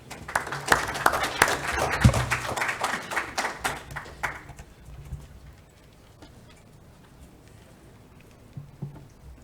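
A conference audience at a session in Cusco applauds, a burst of dense clapping for about four seconds that then thins out and fades into quiet room noise with a few scattered sounds.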